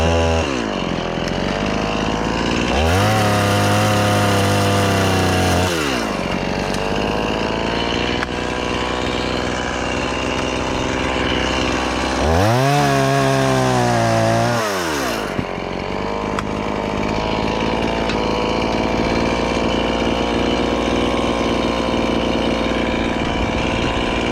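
Chainsaw cutting limbs off a big tree while the operator climbs, loud and close, idling steadily with two long revving bursts as the blade bites into the wood.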